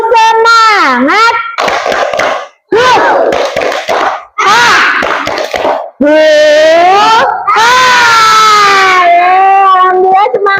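A group of children in a classroom chanting a spirit clapping chant (tepuk semangat) in loud, sung, wailing phrases broken by short pauses and claps, close and energetic.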